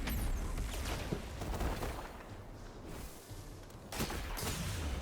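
Rapid gunfire from a video game shooter using a scout rifle, loud dense bursts of shots filling the whole stretch with a brief lull in the middle.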